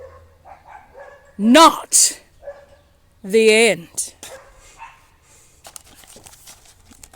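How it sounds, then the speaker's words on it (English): Neighborhood dogs and a household dog bark and yip in two short bursts while greeting each other, fairly close, with a person speaking quietly around them. "there's the dogs greeting each other, the neighborhood dogs and our dog"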